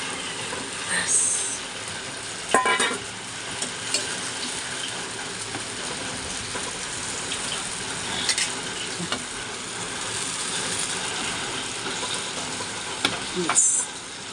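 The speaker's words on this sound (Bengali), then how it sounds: "আর এখন আমি মাছগুলো আস্তে আস্তে এর মধ্যে দিয়ে দিচ্ছি" Pieces of fish slid one by one into a boiling curry gravy, giving a continuous bubbling hiss with occasional clinks and knocks from the pot, moderately loud and close throughout.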